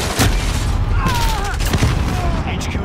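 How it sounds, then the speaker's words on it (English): Enemy sentry gun firing in a military shooter game, a loud clatter of rapid shots mixed with booms and mechanical whines, dense and continuous for a few seconds. "They got sentry gun back there."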